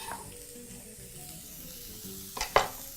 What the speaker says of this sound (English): just quickly toss that through, allowing your paprika and your onion to combine very, very quickly